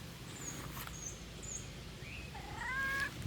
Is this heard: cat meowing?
yes